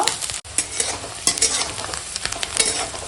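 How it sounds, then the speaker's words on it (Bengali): Chopped onion and chilli fry in hot oil with bay leaf in a pan, giving a loud, continuous sizzle with stirring scrapes throughout. "পেঁয়াজ লঙ্কা একসঙ্গে ভালো করে ভেজে নেব"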